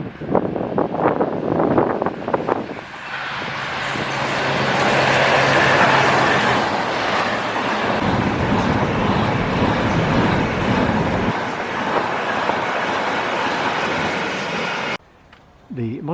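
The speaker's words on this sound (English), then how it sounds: "And here comes the Tesco train." A train rolls into a station amid heavy wind noise, a broad rushing roar building and then easing off, with brief talk at the start.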